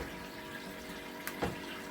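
Cold water is poured out during a home brewing session, giving a quiet, steady trickle with a brief splash. The sound is faint and nobody speaks.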